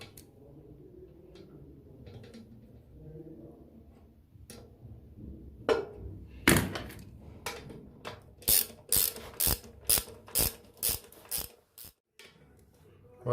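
A ratchet wrench clicks as the mounting nut is tightened while installing a toilet, about a dozen sharp, close, evenly spaced clicks in quick succession after a quieter stretch of handling noise.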